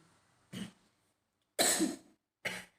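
Three separate coughs, close and fairly loud, with short pauses between them and no speech.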